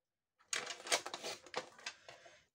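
Paper is cut straight for a handmade mini album, with a close run of crisp, crackling cutting sounds in uneven bursts, then a quiet trailing rustle at the end.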